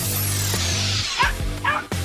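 A dog gives a few high yips and short barks at close range, with a whimpering edge, over a steady tonal background hum.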